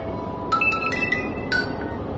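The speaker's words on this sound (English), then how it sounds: "I had to play the find my phone thing here" A lost phone rings from a find-my-phone alert, its electronic tone chirping in short bursts of a few beeps over steady background hiss, fairly close but not loud.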